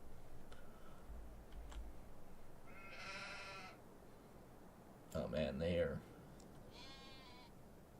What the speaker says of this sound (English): we've got my lovely little brown sheep.